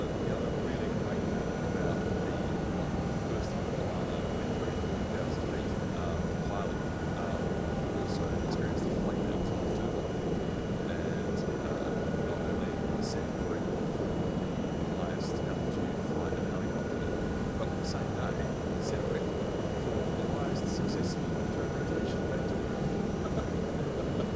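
Helicopter flying in Microsoft Flight Simulator 2024 over an Andes town: a steady, dense rotor and engine drone holds at even loudness throughout, with faint clicks on top and no voices.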